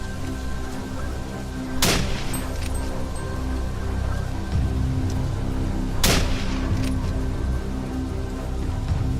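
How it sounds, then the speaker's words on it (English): Two loud gunshots during a wild boar hunt in mountainside foliage, spaced a few seconds apart, each a sharp crack over steady rustling outdoor background noise. "3 loud gunshots rang out, ending the prey's escape once and for all."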